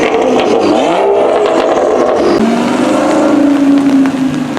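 A V10 car engine revs at an outdoor car show, a loud, steady roar with rising and falling pitch sweeps that settles into a sustained high drone toward the end, with no talk over it.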